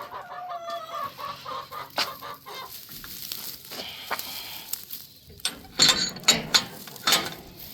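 Farm chickens cluck and chatter in the morning, a scattered run of calls that turns louder and busier toward the end, with no talking.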